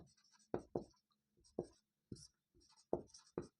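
Chalk or marker taps and scratches against a board during a maths lesson, heard as short, close, irregular strokes with quiet gaps between them and a faint low hum underneath.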